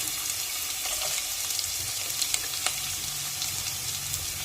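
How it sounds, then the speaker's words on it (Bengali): Onions and chopped potatoes frying in oil make a soft, even sizzle with scattered light crackles and pops, heard faintly and at a steady level. "পেঁয়াজগুলো লাল লাল করে ভেজে নেব। আলু কুচি দিয়ে দিচ্ছি।"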